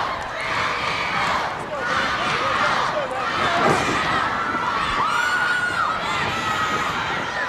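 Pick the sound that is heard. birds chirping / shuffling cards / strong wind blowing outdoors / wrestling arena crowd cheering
wrestling arena crowd cheering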